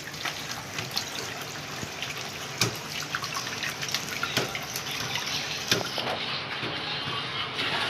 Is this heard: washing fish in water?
yes